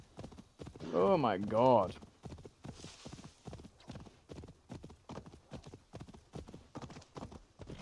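Rapid clip-clop of horse hooves trotting steadily and close in Assassin's Creed Valhalla, with a brief whinny near the start and a person speaking over it.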